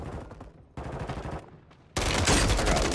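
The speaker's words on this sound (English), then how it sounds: "Yep, they're shooting." Rapid automatic gunfire from a Call of Duty match, close and loud, in three bursts, with the last burst the heaviest and densest.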